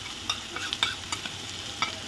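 Onion fries with ground green chili and garlic paste in a dhaba-style rajma kitchen, a steady soft sizzle broken by scraping stirring strokes, fairly quiet with no voices.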